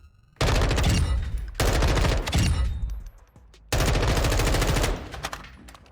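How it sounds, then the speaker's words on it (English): Automatic gunfire from an unmodified gun with no attachments on the Modern Warfare II firing range: three loud, sustained bursts separated by short pauses, with no talking. "we can see what the recoil is like with no attachments on the gun"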